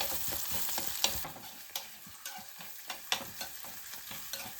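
Chopped ginger and garlic fry in a pan, a quiet continuous sizzle broken by repeated sharp scrapes and clinks of stirring at an irregular pace.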